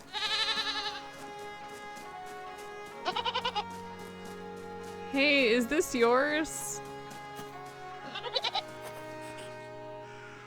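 Video game goat in REKA bleating in short loud bursts, a few separate cries spread over the stretch, with a person speaking briefly between them over game music.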